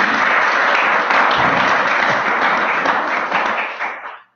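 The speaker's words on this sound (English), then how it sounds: "Okay, we can clap." Sustained audience applause at an academic student symposium, a dense wash of many hands clapping steadily and loudly before tapering off at the end.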